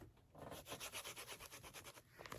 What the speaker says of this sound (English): I take the pieces and I rub them together